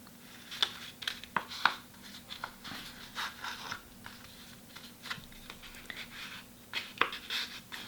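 Paper being folded and creased by hand for an origami bird, with soft crinkles and sharper taps and scrapes of creasing, quiet and close, in uneven bursts.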